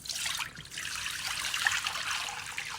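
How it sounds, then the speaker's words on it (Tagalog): Water is poured into a kawali cooking pan while preparing crispy pata. A steady, close trickling splash runs for nearly three seconds at moderate volume, briefly dipping once, with no one talking. "Dito sa ating kawali, maglalagay tayo ng tubig."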